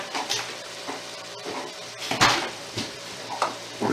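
Tomato paste stirred in a pan for lasagne, with scattered scraping and clinking strokes of a utensil against the pan over a faint sizzle, close and moderately loud.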